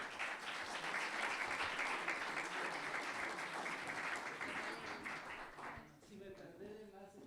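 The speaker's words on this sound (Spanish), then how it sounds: "Para él un fuerte aplauso." Audience applause at a recognition ceremony honoring a historian, full continuous clapping from a crowd for about six seconds before it thins out as a voice begins speaking.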